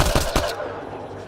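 Gunfire in the video game Mass Effect Andromeda, a short, dense burst of two or three loud, close shots that cuts off quickly into a dull background rumble.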